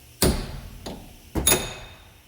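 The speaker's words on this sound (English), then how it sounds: "You take a punch and a hammer," A hammer strikes a punch to stake the CV axle nut on a 2008 Kia Sedona: a few sharp, close metallic blows, one lighter tap between two heavier strikes and a quick double hit, each ringing briefly.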